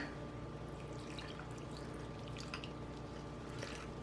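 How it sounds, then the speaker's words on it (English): Iced coffee mix poured from a glass over ice cream, a steady close liquid pour with faint dripping and splashing throughout, no talking. "attempt to pour this glass of the Ice Cafe mix over the ice cream"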